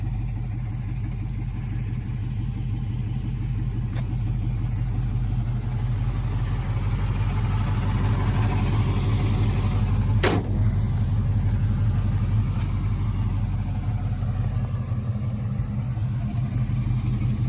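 A 1965 Chevrolet Impala convertible idles steadily with a deep, even exhaust burble that holds constant throughout, plus a brief sharp click partway through.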